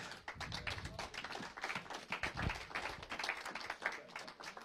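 A church congregation claps their hands during a sermon, a quiet, dense patter of many hands that stays faint and even throughout.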